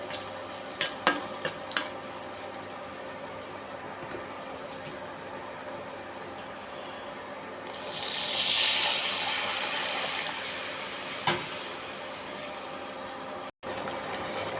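Water pours into a pan of fish curry seasoned with salt, turmeric and cumin, making a soft, steady splashing hiss that swells for a few seconds, with a few faint utensil clicks around it.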